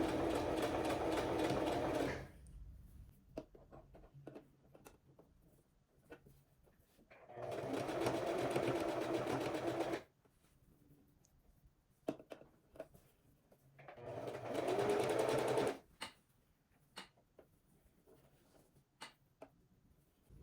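A sewing machine stitches an open-back summer dress neckline as the fabric is guided along the presser foot edge, running in three steady bursts of about two and a half seconds each, separated by quiet pauses with small clicks.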